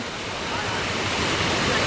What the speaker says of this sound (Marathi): पाण्याचा झरा लागला आहे